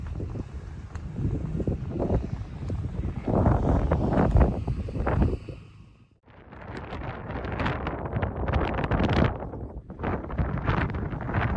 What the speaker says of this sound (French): Tantôt, je parlais d'une petite brise, là, mais là, le vent s'est levé.